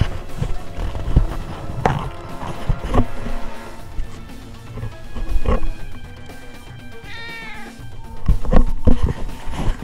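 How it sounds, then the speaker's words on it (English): A cat meows loudly right into a microphone, several drawn-out yowling cries over busy background game noise. "I put the microphone up to the cat just for fun."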